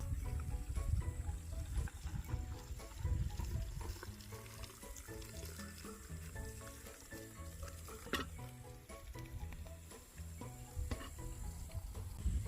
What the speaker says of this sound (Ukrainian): Закипіла вода у каструльці, маринад розсіл у каструльці, наливаємо його в огірочки